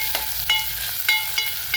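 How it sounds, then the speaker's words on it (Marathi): Dried red chillies dropped into hot oil for a tempering for a tamarind-jaggery aamti, crackling and sizzling up close in short bursts and pops over a steady hiss. "लाल मिरच्या आहेत सुक्या मिरच्या त्या टाकूया खमंग अशी फोडणी आपल्याला परतून घ्यायची"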